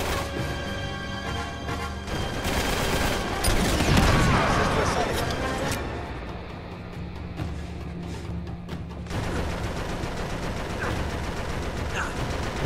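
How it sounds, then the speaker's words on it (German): Gunfire in Uncharted 3 at a ship graveyard, with dense bursts of automatic fire and impacts peaking early, then thinner sporadic shots over a steady game backdrop. "Wirst schon wieder beschossen"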